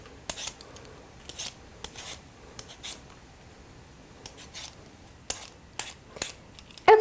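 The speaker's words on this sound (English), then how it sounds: "So what I'm gonna do is peel a potato." A potato is peeled by hand in a kitchen, giving short, crisp scraping strokes in an uneven rhythm, close and fairly quiet, with brief pauses between them.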